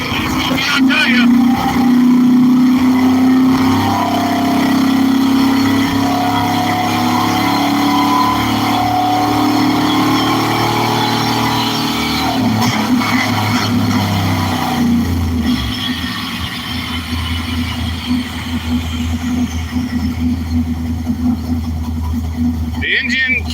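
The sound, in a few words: race car engine running on a dyno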